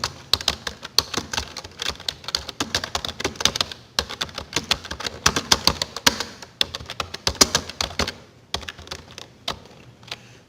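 Fast, continuous typing on a computer keyboard while entering text in MS Word, with crisp close-up key clacks in quick bursts, brief pauses, and no talking.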